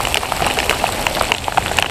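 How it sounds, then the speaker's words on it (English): Heavy rain pours onto Lake Champlain during a Bassmaster Open bass fishing tournament, a dense steady patter of drops splashing close by with no pauses. "pouring rain"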